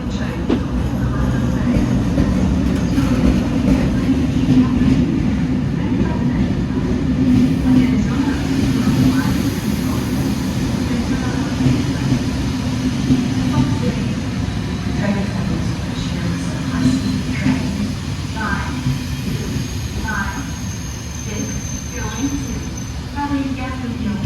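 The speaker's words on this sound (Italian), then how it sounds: "Il treno ad alta velocità Freccia Rossa di Trenitalia" A Trenitalia Frecciarossa high-speed train travels through the Alps with a steady, loud rumbling roar of rail noise and faint rhythmic clatter throughout, with no pauses.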